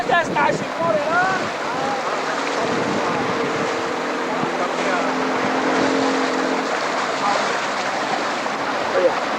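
A large boat approaches on open sea near Hong Kong's eastern islands, its engine a steady low drone under gusty wind noise and the wash of water, with brief voices near the start.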